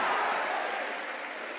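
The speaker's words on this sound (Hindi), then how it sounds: "एक बार उसके लिए तालियां बजाओ" Audience applause in a hall at the CMA Student Fest 2024, a dense, steady wash of many hands clapping that fades slightly over under two seconds, with no voices over it.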